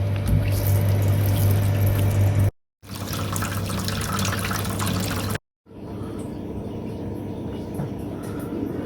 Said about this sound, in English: So we just drain the excess water